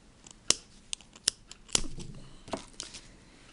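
Clippers snipping yarn while double knitting on a Kiss Loom, several crisp close clicks spaced irregularly, followed by soft rustling handling of the yarn, with no talk.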